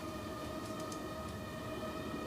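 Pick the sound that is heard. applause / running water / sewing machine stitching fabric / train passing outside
train passing outside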